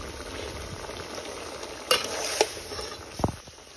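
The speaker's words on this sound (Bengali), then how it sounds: "এখানে আমাদের মাছগুলো কষানো হচ্ছে।" Fresh pond fish braises in a hot pan, a steady oily sizzle running throughout, broken by a few sharp clinks of a utensil stirring against the pan.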